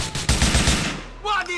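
Rapid automatic gunfire in GTA IV crackles in a tight burst of repeated shots, loud and close, then gives way to a brief tail of lighter game effects.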